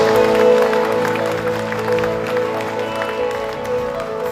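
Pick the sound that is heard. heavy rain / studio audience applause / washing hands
studio audience applause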